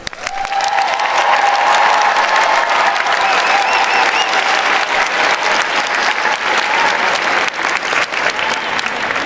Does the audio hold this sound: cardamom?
no